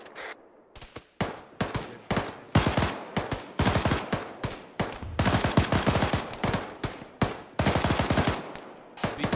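Dense automatic gunfire in Arma 3, with repeated bursts of rifle and machine-gun fire cracking loudly and closely across the whole stretch, short gaps between volleys and no talk.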